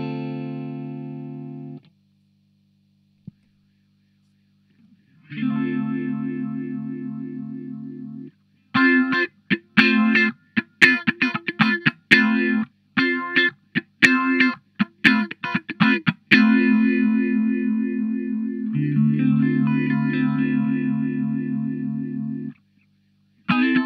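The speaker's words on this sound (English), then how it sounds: "A phaser is really good for swirly type sounds" An electric guitar runs through a phaser effects pedal, producing a swirling, sweeping tone across sustained notes and a run of quick, choppy strums, with short silent gaps between phrases.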